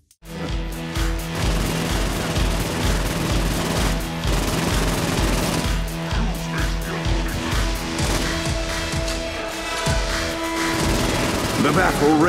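Gunfire and explosions from a battle in the video game Saints Row: Gat Out of Hell, a dense, continuous barrage of rapid shots and booms with game music and voices underneath.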